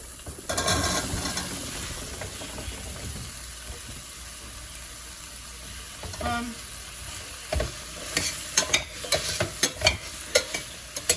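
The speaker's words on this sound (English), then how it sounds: "I'm going to mix it into the vegetables now, and I'm going to throw in the potatoes" Caramelized vegetables and potatoes are stirred in a pan, with a low sizzle under sporadic clinks and scrapes of a utensil that grow busier toward the end.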